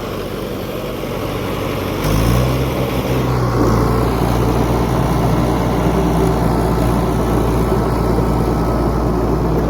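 A tractor engine works loudly while puddling a paddy field for basmati rice, a steady heavy drone that rises in load after a couple of seconds and then holds constant and close.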